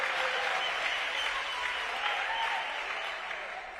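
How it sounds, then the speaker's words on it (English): A town hall audience in Makhanda gives a round of applause, a dense, steady wash of many hands clapping that holds loud throughout, then eases slightly toward the end. "Let's just give them another round of applause."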